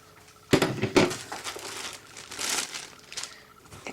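Plastic packaging crinkles during an unboxing of diamond painting supplies, with two sharp crackling bursts early on followed by softer, intermittent rustling close by.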